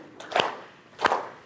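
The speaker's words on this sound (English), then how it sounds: "Now clap to your right shoulder." Two soft hand claps, made at the right shoulder during a fitness routine, land about two-thirds of a second apart, faint and close.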